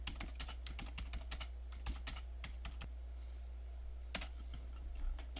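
Steady typing on a computer keyboard as a reply is entered, a dense run of close, crisp key clicks with a few louder strokes. A constant low hum sits underneath, and no one speaks.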